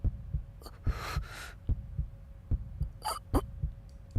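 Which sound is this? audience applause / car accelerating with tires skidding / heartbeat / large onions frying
heartbeat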